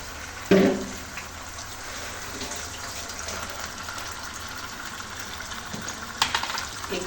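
Chicken and onions in a pan give off a low, steady sizzle and hiss throughout, with a sharp clank near the start and a few scraping stirs later.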